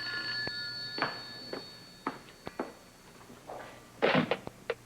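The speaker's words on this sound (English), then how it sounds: "Answer the phone." An old-style telephone bell rings in an office setting, several short rings in an irregular pattern, mixed with a few clunks and knocks, with no voices.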